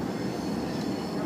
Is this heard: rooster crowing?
no